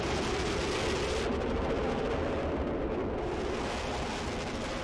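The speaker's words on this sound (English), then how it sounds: "there you can see the bombs dropping at half-second intervals" Bombs released at half-second intervals by an A-4E Skyhawk in the DCS flight simulator, heard as a dense, continuous, loud rumble of blasts and engine roar without separate distinct bangs.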